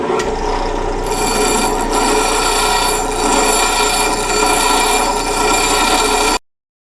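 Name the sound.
bench grinder coarse wheel grinding a weld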